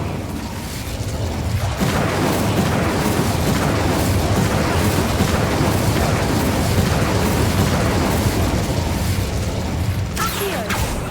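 An Incendio fire spell cast in Hogwarts Legacy: a loud, dense, roaring rush of flame and combat noise that runs steadily throughout with scattered bursts and pops.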